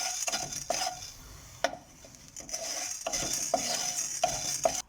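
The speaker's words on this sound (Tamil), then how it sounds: "இப்போ இதில் வெறும் வானலில் இந்த சோம்பு, மிளகு, ஜீரகம் மூணையும் வறுத்து எடுத்துக்கலாங்க." Fennel seeds, black peppercorns and cumin dry-roast in a pan over low heat while a spoon stirs them, giving close scraping strokes and clinks over a soft rustling hiss, with short pauses between strokes.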